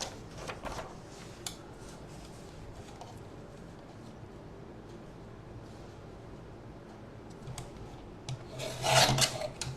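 Scissors cutting through book pages to make paper roses, soft scraping and rasping snips at close range, quiet with a louder burst of cutting near the end.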